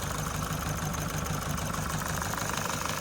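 A car engine idles steadily and close, with a continuous rough mechanical rumble and faint rattling vibration throughout.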